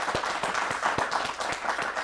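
An audience claps together for Najrabi sahib in a dense, steady round of applause, loud and close, with no talk.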